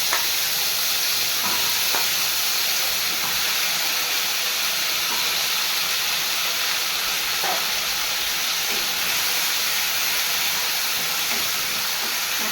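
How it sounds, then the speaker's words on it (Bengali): Taro frying in hot oil with salt and turmeric gives a steady, dense sizzle and hiss that runs unbroken from start to end, with a few faint utensil knocks and no voices. "কিছুক্ষণ লবণ হলুদ দিয়ে ভালো করে ভেজে নেব"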